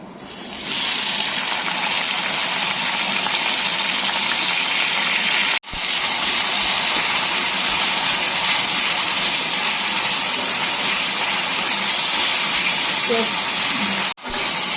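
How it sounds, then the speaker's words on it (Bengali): Onions frying in hot mustard oil for a Bengali kosha alur dom; a loud, dense, continuous hiss like rushing steam, dropping out briefly twice and then resuming at full strength. "তেলটা গরম হয়ে গেছে, আমি পেঁয়াজগুলো ভেজে নেব"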